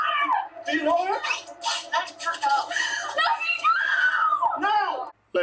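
A woman screams and wails during a confrontation inside a store, loud and up close, her cries rising and falling in pitch across several seconds with voices mixed in.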